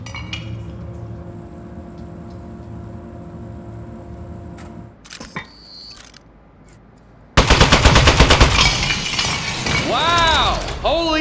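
A turret in the Aperture Desk Job video game fires a loud, rapid stream of shots with glassy clinks and shattering, after quieter mechanical whirring and clatter.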